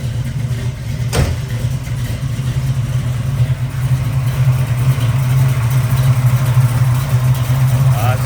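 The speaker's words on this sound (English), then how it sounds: "It's a nice, strong, smooth running V8 there." A 1970 Chevrolet Camaro Z/28 RS tribute with a V8 idles in neutral nearby, a steady, smooth low rumble that holds even throughout, with one brief click early on.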